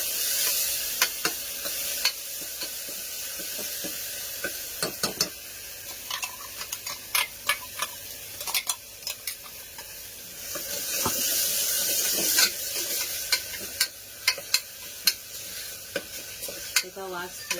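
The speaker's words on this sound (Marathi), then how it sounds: "आता आपण त्याच्यामध्ये पेस्ट केली आहे ती टाकूया. थोडी परतून घेऊया." Ground paste sautéing with browned onions in a pan for a home-style chicken feet soup, a steady sizzle broken by sharp clicks and scrapes of stirring, close and fairly quiet, with no talk.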